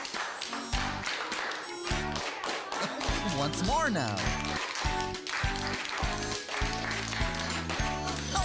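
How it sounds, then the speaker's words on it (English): Hands clap a steady, repeating rhythm in a children's sing-along, the sharp claps sitting over bouncy music while a voice speaks briefly. "Now it's going to be your turn to try the clapping part."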